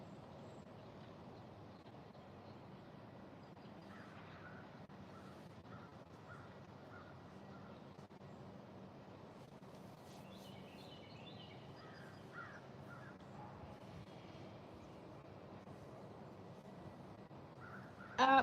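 Outdoor ambience with crows cawing now and then among other distant bird calls over a low steady background rumble.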